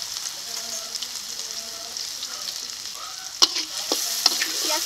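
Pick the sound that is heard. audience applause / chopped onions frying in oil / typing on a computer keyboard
chopped onions frying in oil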